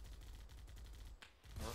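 Rapid automatic gunfire rattles in a dense burst from the ArmA 3 Halo mod, steady repeated shots from a distance with a sharper blast near the end.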